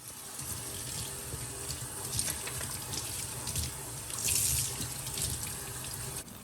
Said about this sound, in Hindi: पानी से बस अच्छी तरह आप इनको साफ़ कर लें।